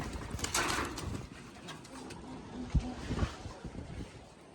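Pigeons coo softly in short low notes against a breezy background, a few calls close together.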